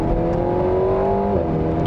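Alpine A110S engine pulling hard on track, revs climbing steadily in one gear then dropping briefly at a shift before rising again; loud, close, continuous engine tone with no talking.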